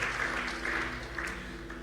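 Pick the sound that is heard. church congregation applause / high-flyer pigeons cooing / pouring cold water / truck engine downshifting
church congregation applause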